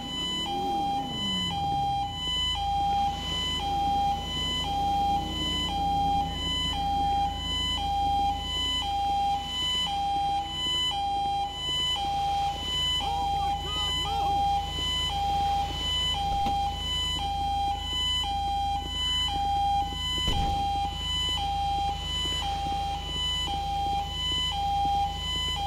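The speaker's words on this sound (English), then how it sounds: "he won't let me turn the siren out" A police car siren in Grand Theft Auto 5 wails loudly and continuously in a repeating pulsed electronic tone, close and unbroken under engine rumble, with no one talking.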